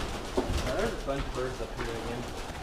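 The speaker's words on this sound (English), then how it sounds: "There's still a bunch of pigeons." Several pigeons of mixed colours, reds and pieds among them, coo in a loft in a low, continuous murmur, with soft rolling calls repeating close by throughout.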